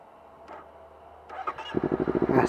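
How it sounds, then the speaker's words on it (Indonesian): A Honda CBR250RR motorcycle engine starts from near silence: a couple of faint clicks and a brief cranking whir, then the engine catches into a loud, rapidly pulsing idle at the end. "Nah, start engine dulu."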